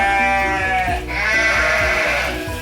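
Several lambs bleat loudly and close by, their wavering cries overlapping one after another in a continuous chorus.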